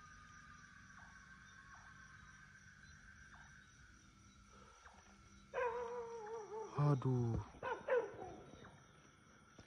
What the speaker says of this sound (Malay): Anjing ni menyalak kat something